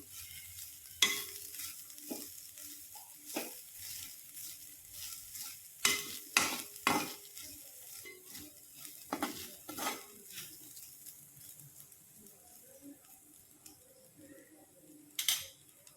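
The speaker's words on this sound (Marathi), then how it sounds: "खीस आपल्याला छान भाजून घ्यायचा आहे" Grated fresh coconut roasting in a pan for coconut barfi, stirred with a spoon: soft continuous sizzle under repeated scraping strokes and light taps against the pan, fairly close.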